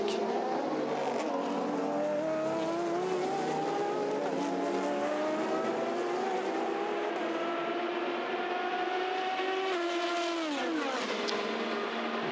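LMP2 prototype race cars at the 24 Hours of Le Mans 2019, engines screaming as they pass one after another, rising and falling pitch sweeps over a sustained roar, loud and close.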